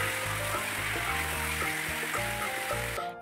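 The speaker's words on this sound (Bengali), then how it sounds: "চিকেনটা দেওয়ার পর আমি এখন ভালো করে ভেজে নিচ্ছি, ভালো করে চিকেনটা কষিয়ে নিতে হবে" Marinated chicken pieces for butter chicken frying in a pan, a steady close sizzle under a faint background hum, cutting off abruptly at the end with no talking.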